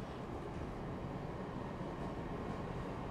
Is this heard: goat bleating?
no